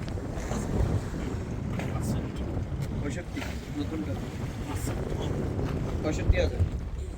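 A boat rocks on choppy sea off Saint Martin's Island, with steady wind buffeting the microphone and waves sloshing continuously against the hull.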